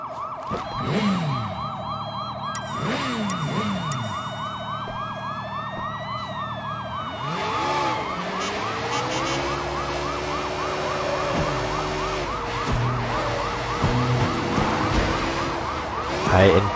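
A wailing electronic police siren from the video game Sleeping Dogs: Definitive Edition cycles steadily and loudly, rising and falling over a constant drone, with beeping tones layered on top throughout.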